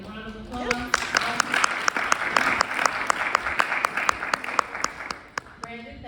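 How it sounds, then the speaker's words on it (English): An audience gives a round of applause for a guest at an interview event, with brisk, close clapping that rises and then fades, while a person speaks over it at the start and end. "Give a round of applause."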